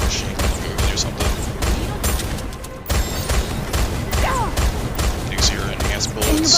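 Pistol gunfire in the NIKKE video game, with sharp repeated shots in an uneven rhythm mixed with game effects and clanks, partly under talk.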